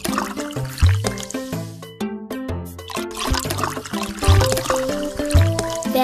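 Shower water pours and splashes on a puppy in a pet doctor game, trickling in bursts over bright, bouncy game music with plinking tones.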